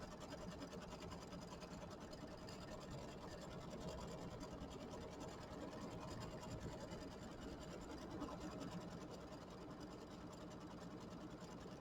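An embroidery machine quilts around a Kimberbell mini quilt block, giving a faint, steady, rapid needle-stitching hum that runs evenly and unbroken throughout.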